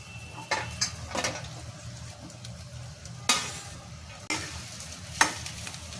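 Potatoes sizzle and fry in a pan for a Maharashtrian potato bhaji, with a soft steady frying hiss broken by several sharp scrapes and knocks of a spoon stirring against the pan.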